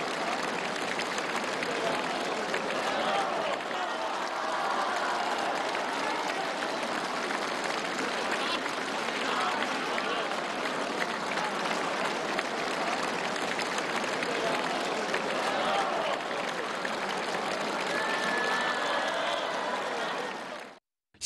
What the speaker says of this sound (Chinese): 大厅内掌声、欢呼声经久不息。